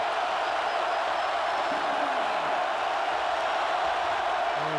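A large football stadium crowd at a Notre Dame versus Michigan State game roars in a broad, steady wash of cheering, distant and sustained without a break.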